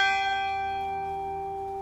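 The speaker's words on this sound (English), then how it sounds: "We will ring one bell at the end of the names of those interred in our memorial garden." A single church bell, struck once during an All Saints remembrance service, hangs in the air as a clear, ringing tone that slowly decays, alone without voices.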